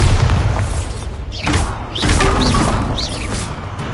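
A Bombardo blasting spell going off in Hogwarts Legacy, a heavy booming explosion with crashing thuds that holds loud across the clip, followed by a few sharp magical whooshes.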